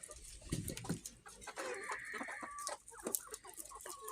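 Chickens cluck close by in short, uneven bursts, with a few louder squawks and rustling, no talking.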